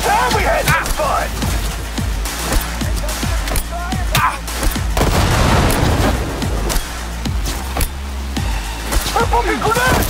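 Cyberpunk 2077 combat with a grenade blast and scattered gunfire, sharp booms and shots ringing out close and loud, mixed under shouting voices.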